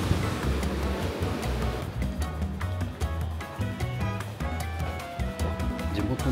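Sea water washes beneath a wooden jetty in Penang, Malaysia, a low, continuous rumbling surge with faint splashing, steady throughout and without talk.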